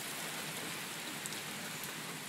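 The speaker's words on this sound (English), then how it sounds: "then it started raining" Heavy rain pours down during a serious storm outside a porch, a dense, steady hiss of drops hitting surfaces, close and continuous with no talking.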